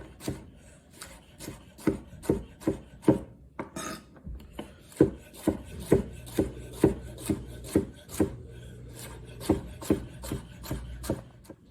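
A knife slices vegetables into thin bias cuts on a wooden cutting board for chicken noodle soup, a quick series of crisp, evenly spaced chops close up, with a brief pause partway through and no talking.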